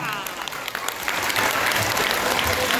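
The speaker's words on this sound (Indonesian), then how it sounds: "Kita kasih tepuk tangan untuk kita semua" Crowd applause at a Father's Day parenting event held at a kindergarten, a full, continuous clapping that swells slightly louder, with faint voices mixed underneath.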